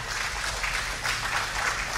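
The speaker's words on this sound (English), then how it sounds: "Shall we give the best clap of praise to God?" A church congregation claps in praise, a continuous wash of many hands applauding together at moderate loudness.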